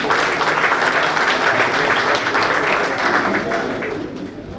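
An audience claps at a felicitation function held by the Bar Council of Delhi in a hall, a dense, loud burst of applause that holds steady and then starts fading toward the end.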